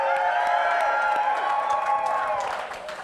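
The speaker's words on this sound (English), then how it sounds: "I want a rousing round of applause for Ollie Stitch" A short burst of audience applause and crowd noise greets a bartender as he comes on stage, busy clapping over music and voices that gradually fades toward the end.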